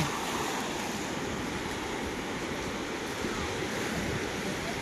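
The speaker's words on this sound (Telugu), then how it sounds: "సముద్రం సముద్ర ఒడ్డున" Ocean waves washing onto the sea shore, a continuous broad rushing hiss, fairly loud and steady throughout, with wind-like noise and no talking.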